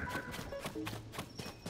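Horse hooves clip-clop at a walking pace in The Legend of Zelda: Tears of the Kingdom, a series of fairly soft, evenly spaced footfalls heard up close.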